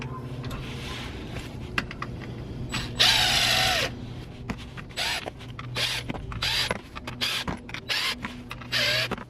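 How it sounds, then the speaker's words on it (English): Ratchet working loose the transmission pan bolts on a BMW ZF automatic gearbox, a steady series of rapid clicking and creaking mechanical bursts, close by, with occasional metallic clunks. "I'm just going to crack them loose with the ratchet, then I'll use the impact wrench."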